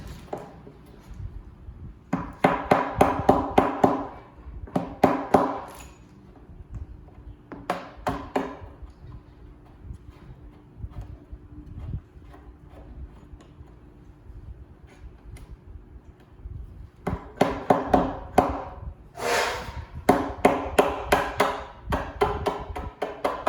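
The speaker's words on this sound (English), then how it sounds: "we're going to put in one of these lag bolts" Lag bolt being driven into a DIY wooden cornhole board, heard as bursts of rapid ratcheting clicks and taps in several separate runs with pauses between, close by and moderately loud over a low steady hum, with no speech.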